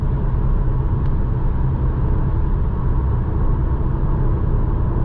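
Steady low road rumble from tires with a soft wash of wind inside a 2020 Audi A3 Sportback cruising at night in sixth gear, constant and even, one faint tick partway through, no talking.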